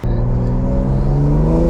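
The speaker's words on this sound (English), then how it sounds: "She goes, and the turbo howls" BMW M340i accelerating hard, its engine droning loud and steady with layered tonal harmonics and a whirring turbo note that climbs gradually, close up and continuous for the whole stretch.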